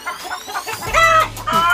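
Chickens clucking at a coop, a string of close, loud clucks and squawks in quick bursts, louder toward the end.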